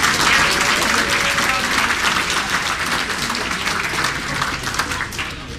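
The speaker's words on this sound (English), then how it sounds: "Round of applause for those with 30 years of service." A crowd applauds steadily at an employee recognition breakfast, a dense wash of many hands clapping that slowly tapers off toward the end.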